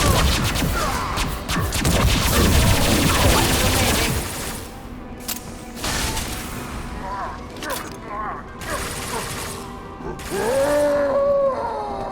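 Explosions and gunfire in the Mass Effect video game during a fight with Mordin as an Engineer: dense, loud bursts of booms and rattling fire, thinning into scattered blasts and mechanical clanks with occasional combat voices.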